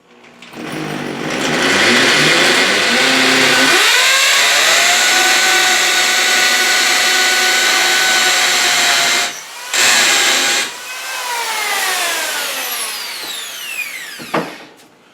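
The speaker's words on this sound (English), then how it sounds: "Now, that was a hammer drill, which is recommended for using masonry bits" A hammer drill with a masonry bit spins up and grinds steadily into masonry for several seconds, briefly stops, restarts, then winds down with a falling whine.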